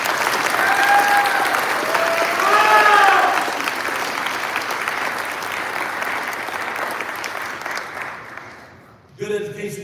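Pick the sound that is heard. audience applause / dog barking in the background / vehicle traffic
audience applause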